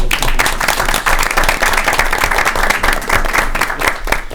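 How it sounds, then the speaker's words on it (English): Loud, steady round of applause fills a school committee meeting as two honorees are congratulated, dense clapping from a nearby crowd sustained without a break for several seconds. "Let's give them a round of applause."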